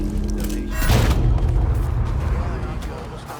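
A single loud, booming gunshot rings out in Mafia 3: Definitive Edition, with a sharp onset followed by a rumbling decay over ambient game noise.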